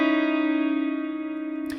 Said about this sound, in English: a 12-string guitar that plays a shape that sounds like this